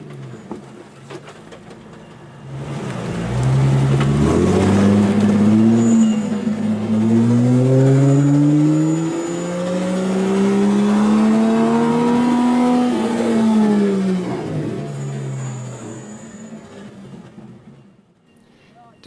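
Short-wheelbase Jeep TJ engine revving hard as it tries to climb a steep rock step off-road, the note rising and falling through repeated loud surges before easing off.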